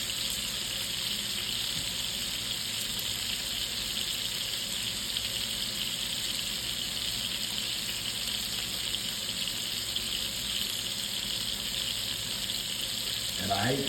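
Frozen salmon fries in a pan in a country kitchen, giving a steady, loud sizzle with high hissing spatter that runs continuously, close up, with no one talking.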